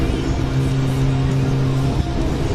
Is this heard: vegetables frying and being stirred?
no